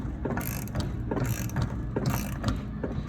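A ratchet wrench tightens the caging bolt on a truck air brake can: close, repeated clicking ratchet strokes in a steady rhythm, each stroke a short burst of metallic pawl clicks.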